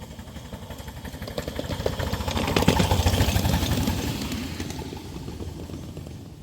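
Miniature live steam trains on 7 1/4 inch gauge track pass at a fall meet, giving a rapid chuffing rhythm that swells as they draw close and then fades as they move on.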